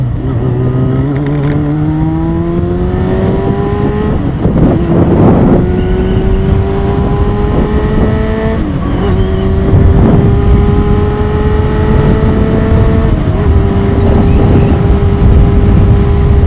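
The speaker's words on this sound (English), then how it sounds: "now that the bike's warmed up, we can take the choke off. And away we go." A motorcycle with its choke off after warm-up pulls away. The engine drone rises and climbs through gears in steady, close-up revving, loud throughout with no talking.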